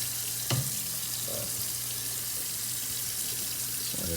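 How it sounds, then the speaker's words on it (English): Steady rushing of tap water runs throughout, loud and continuous, with a faint clink or two of dishes underneath. "Sorry if this water is too loud for the video."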